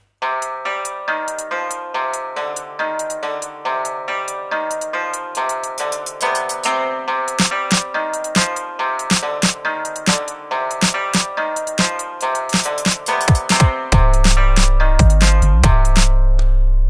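Bright melodic trap beat built on yangqin, with crisp snare hits building steadily, then a heavy deep kick drops in for the final few seconds.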